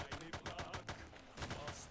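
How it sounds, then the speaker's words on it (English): Rapid bursts of gunfire in the Roblox video game, close and loud, with sharp shots following one another in uneven clusters for the whole stretch. "There's lots of gunfire going on."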